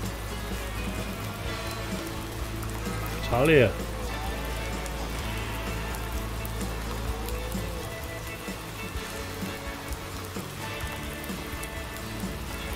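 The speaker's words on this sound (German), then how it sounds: "Endlich mal wieder Regen" Steady rain falling on a surface somewhere outdoors in Thuringia, a soft continuous patter that runs throughout, with a brief voice and a few low background noises over it.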